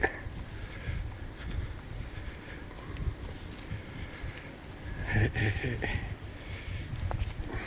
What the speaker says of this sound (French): Ah, le vent se lève, désolé.